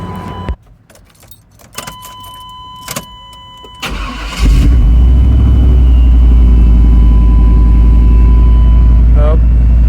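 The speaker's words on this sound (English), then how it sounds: "Nope, still idling way high." A 1994 pickup truck with a swapped-in LS engine cranks and catches after some clattering and a jingle of keys, then settles into a loud, steady idle that is too high and drones on to the end.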